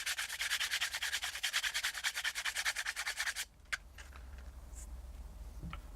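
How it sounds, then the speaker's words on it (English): Wire being rubbed with a piece of sandpaper, a fast, even back-and-forth scratching held close for about three seconds before stopping abruptly, followed by a few faint clicks and handling sounds. "I'll just use a little bit of sandpaper to clean it up."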